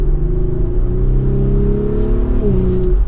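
A 2024 Audi SQ5 engine drones loudly from inside the cabin, rising in pitch as it revs while driving in dynamic mode, with a steady road rumble underneath.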